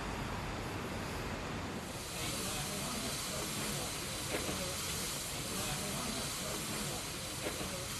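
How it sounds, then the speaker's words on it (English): A Beyer Peacock steam locomotive, in steam at a museum exhibition, releases a continuous, loud hiss of steam that holds steady throughout. "The museum exhibition also included conventional engines built by Bear Peacock, and these were in steam"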